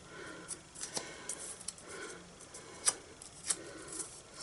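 A bone folder rubbing along a paper bow on a handmade Christmas card, several quiet scraping strokes with small crisp ticks, close and alone.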